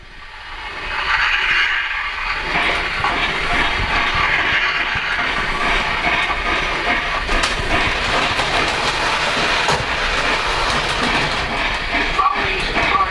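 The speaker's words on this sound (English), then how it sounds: "Trolley is departing from the station." Model railroad trolley pulling away from a station on a Polar Express-themed layout, a steady rolling rumble with light track clatter and hiss that holds at a constant close level throughout.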